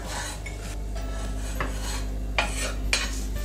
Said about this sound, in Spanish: voy a cortar los champiñones y el jamón